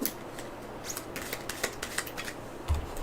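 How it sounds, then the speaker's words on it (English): Cards from a Dark Souls board game deck being shuffled by hand, a run of quick papery riffling flicks and taps at close range, with no talking. "this is his deck that we will shuffle"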